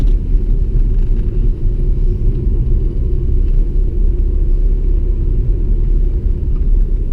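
A 2001 Audi S3 8L on KW coilovers drives steadily, a deep continuous engine and road rumble heard from inside the cabin, even and unbroken throughout with no talking.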